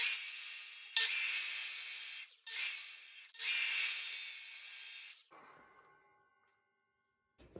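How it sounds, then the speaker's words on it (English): A power saw rips through wood in three loud bursts with short pauses between, then the blade rings as it winds down into quiet. "I'm going to run it through the saw to clean up the edges"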